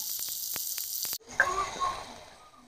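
Ginger garlic paste is added to fried onion and tomato in a hot pan, giving a loud, steady sizzling hiss that abruptly drops to a softer crackle with faint bubbling.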